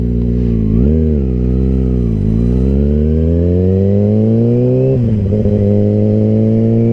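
A Dodge Hellcat accelerates nearby, its loud engine note climbing steadily in pitch with a brief dip before revving higher again, a continuous roar with no talking.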